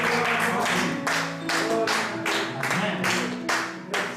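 A church congregation bursts into applause during a French-language worship service, a dense wash of many hands clapping in rhythmic pulses, loud and close, with faint singing or voices underneath.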